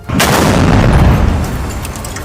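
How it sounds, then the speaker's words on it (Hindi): A loud, close blast from a shoulder-fired rocket launcher in an attack, a sudden broadband boom that rumbles on for about two seconds with a long, slowly fading roar and no voices. "उसने जैसे ही रॉकेट दागा, जबरदस्त धमाका हुआ, धुआं उठा और आसपास लगे शीशों के टुकड़े गिरते दिखे।"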